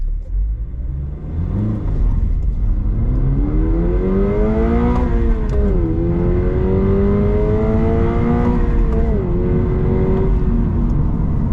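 A 2025 Subaru BRZ tS with a naturally aspirated engine launches in track mode with traction control off. Its loud, steady engine note climbs in pitch, dips briefly at two gear shifts, then keeps rising.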